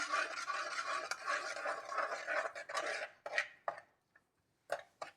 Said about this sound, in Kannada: ನಾವು ಗ್ರೈಂಡ್ ಮಾಡಿರೋ ಹೆಸರು ಕಾಳನ್ನ ಇದಕ್ಕೆ ಮಿಕ್ಸ್ ಮಾಡ್ತಾ ಇದ್ದೀನಿ